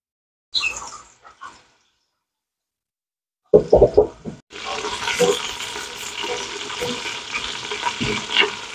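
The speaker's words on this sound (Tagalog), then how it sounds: "At paunti-unti din natin ito prituhin hanggang maging golden brown." Flour-coated beef shank frying in oil, a broadband sizzle that starts in short bursts, then swells into a steady loud fry with crackles after a few seconds of near silence.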